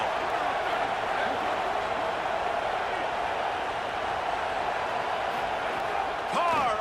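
A football stadium crowd roars steadily behind the defense during a red-zone stand, a dense, distant wash of cheering that swells slightly near the end.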